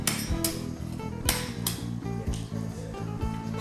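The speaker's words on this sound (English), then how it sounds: "the fellow is working with a special hammer to trim different tiles" A special hammer trims mosaic tiles to shape in a Gibraltar–Morocco workshop, giving a steady run of close, sharp taps and clinks over a continuous low hum, with a few louder cracks standing out.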